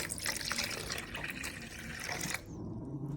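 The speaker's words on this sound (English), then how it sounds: "now I'm going to do a cup of water" Water splashes and trickles steadily into a bowl for a couple of seconds, then the pour stops and a quieter hum remains.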